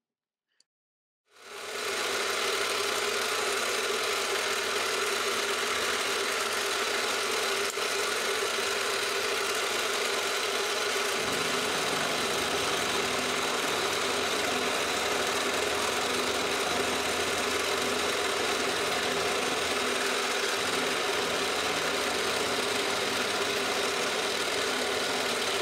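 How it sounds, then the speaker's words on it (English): A milling machine cuts an arc on a rotary table, moving along the Y and Z axes while shaping a knurling tool part. The sound is a steady, loud mechanical drone with constant motor hum that runs the full length and shifts slightly in the low end midway. "all I'm going to do is machine this arc by just using the y-axis and the z-axis with the rotary table"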